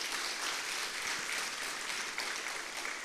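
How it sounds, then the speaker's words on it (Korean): A church congregation's applause during a Sunday service, heard as a brief, dense, even wash of clapping with no break. "우리에게 이런 귀한 목자님 허락하신 우리 하나님께 감사와 영광의 박수 올려드리겠습니다"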